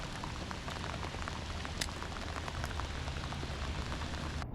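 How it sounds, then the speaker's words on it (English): Rain falls on the French Broad River during a kayak fishing trip, a steady, dense patter of drops with a few sharper splashes, continuous and fairly soft. "It's raining pretty good right now."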